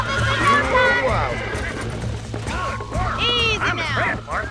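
A horse neighs and whinnies while being broken and tamed in the Red Dead Redemption video game, with hoof clops and loud rising whinnies over a steady low hum, while people talk throughout.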